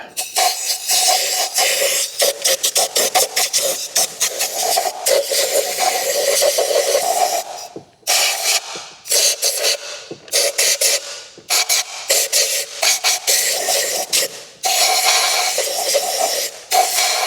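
Compressed air blasting out the spark plug holes of a Ford Escape engine, in loud repeated hissing bursts separated by brief pauses, with no talking.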